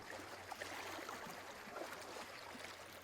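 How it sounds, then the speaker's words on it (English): Steady broadband wash of water waves in The Talos Principle II, a continuous rolling surge with no breaks and no voices, moderately faint and even throughout. "I can still hear the waves."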